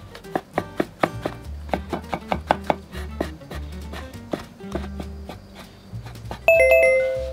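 A kitchen knife chopping shiitake mushrooms on a cutting board, rapid close thuds in an uneven rhythm, with a bright chiming tone ringing out near the end.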